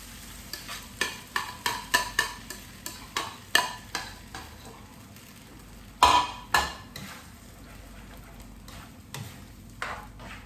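Egg frying in a pan for a Filipino breakfast with fried rice and chicken ham, a steady soft sizzle under a run of sharp metallic stirring taps and scrapes, close by, with no talk.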